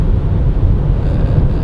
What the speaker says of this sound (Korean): 고속에서도 바람 소리가 좀 커졌죠